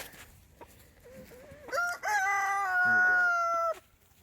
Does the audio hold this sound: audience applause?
no